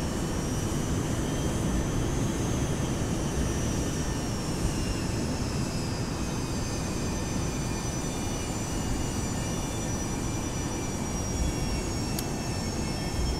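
Simulated Boeing 737-200 jet engine running on one engine while taxiing in X-Plane 11, a steady loud turbine roar with high whining tones that slowly drift in pitch, continuous throughout with no talking.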